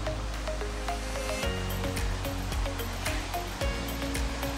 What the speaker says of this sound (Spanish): Ya casi podemos escuchar que estamos cerca. Pero es el río.